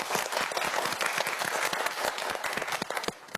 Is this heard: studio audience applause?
yes